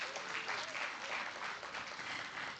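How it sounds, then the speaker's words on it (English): A festival audience applauds steadily and evenly, a dense wash of clapping from a crowd in a hall that holds its level for the whole stretch without a peak. "Let's give them a round of applause"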